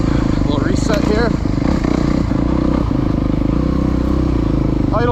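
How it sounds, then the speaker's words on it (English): Dirt bike engine idling on a motorcycle club race course, a steady loud close drone with clattering mechanical texture and a slightly high idle, a brief rise near the end. "Idle sounds a little too high, but it's okay, it ain't flaming out."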